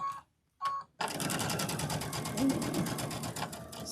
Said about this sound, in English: let's go back and sew these 2 sides